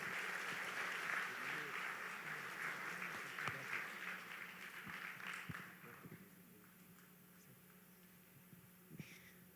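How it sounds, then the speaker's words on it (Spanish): Applause from a church congregation for a man introduced on stage, broad steady clapping that swells for several seconds, fades around the sixth second, and ends under a quieter room with a faint voice. "vamos a darle un fuerte aplauso primero aquí a Chuchito"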